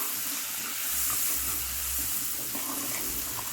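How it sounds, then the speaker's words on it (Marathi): Green chana masala fries in a pan with a loud, steady, close sizzle and hiss that runs the whole time, and a low bubbling rumble sits underneath it. "आपला मसाला व्यवस्थित फ्राय झालेला आहे"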